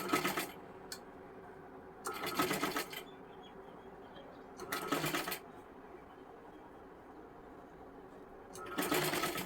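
A sewing machine stitches very small stitches on a girl's frock sleeve in four short bursts, each a quick rapid whir with pauses of quiet between them, close and clear.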